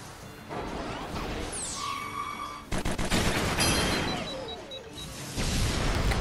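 Airstrike explosions in the war video game Fuga: Melodies of Steel, a loud volley of booming blasts and crashing impacts, with a sharp burst near the middle and whistling debris, alone with no talk.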